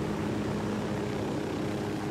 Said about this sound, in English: Oh, they have an airplane also.